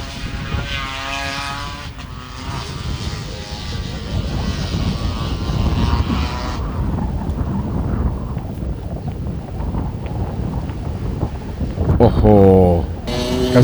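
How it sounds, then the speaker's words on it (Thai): Strong storm wind buffets the microphone at a Thai autocross track, a loud continuous roar and rumble that swells toward the end, with a brief engine-like tone early on. "โอ้โหลมแรงมาก"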